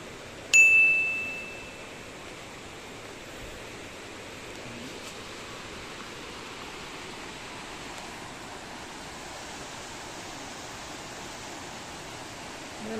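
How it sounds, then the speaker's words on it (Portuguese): Water flows steadily along a nature trail at Poço das Antas, a constant broadband rush that holds at a moderate level throughout, with a brief bright metallic ding near the start. "Tá escutando o barulho da água no meio dessa natureza linda, gente?"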